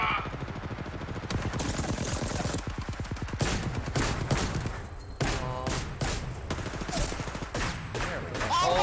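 Rapid gunfire in a multiplayer shooter video game, dense bursts of automatic shots and single cracks, loud and close, with a player's voice talking over them.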